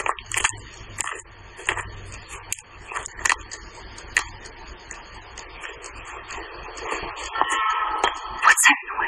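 A train approaches in the video game Life is Strange, a low rumble building into a louder broadband roar near the end, mixed with game ambience and voices talking throughout.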